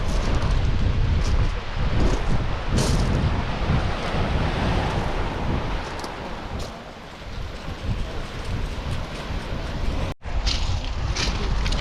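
Sea waves breaking on the shore at Medmerry near Earnley, a steady broadband roar of surf mixed with heavy wind buffeting the microphone, continuous throughout with a brief dropout near the end.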